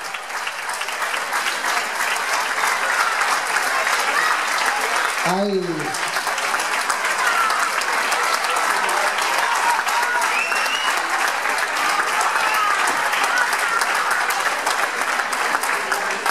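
Sustained audience applause at a presentation of the festival ladies (damas de las fiestas) in Guardo, steady and full throughout, with a brief voice cutting in partway.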